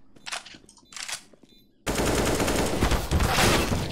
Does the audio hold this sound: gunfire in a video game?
yes